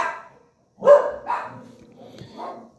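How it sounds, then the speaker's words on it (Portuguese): Dogs bark in a few irregular bursts with short gaps between them, somewhat off to the side, with no talking. "Os meus cachorros resolveram fazer uma bagunça lá"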